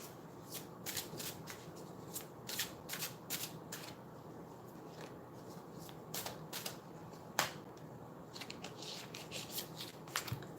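Goddess oracle cards being shuffled by hand, a quiet close-up series of quick riffling flicks and soft slaps in an irregular rhythm, with no talk.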